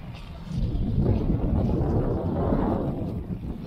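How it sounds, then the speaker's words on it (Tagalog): Strong wind roars and buffets the microphone while fishing in Jeddah, a continuous, rumbling rush that swells and eases slightly, with no voices. "sobrang lakas ng hangin ngayon kumpara nung last episode natin"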